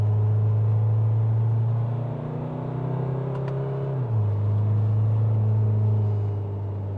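Isuzu MU-X with the 2.2-litre MAXFORCE diesel on the move, a steady low engine and exhaust drone that rises in pitch briefly then settles lower, close and continuous with no talk.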